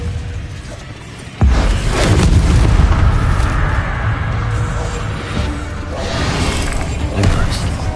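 An Incendio fire spell is cast in Hogwarts Legacy gameplay. A sudden loud booming burst gives way to a sustained roaring, crackling blaze that swells again near the end, heard up close.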